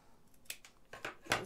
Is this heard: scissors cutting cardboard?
yes